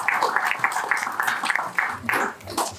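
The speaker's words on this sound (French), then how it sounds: "On peut les applaudir." Applause breaks out at a municipal council meeting in Bussy-Saint-Georges after a vote, as a room of people claps steadily and densely for about three seconds with some faint talk mixed in.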